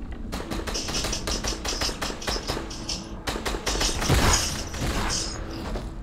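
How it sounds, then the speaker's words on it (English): Gunfire in a Fortnite match, a rapid series of sharp clicking shots in uneven bursts over steady game background, louder near the middle of the clip. "I'm being shot at."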